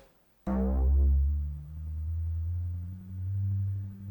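A smooth tone from an Arturia CMI-V software synthesizer starts suddenly, holds, then glides up a perfect fifth to a higher sustained note, clear and alone with no talking.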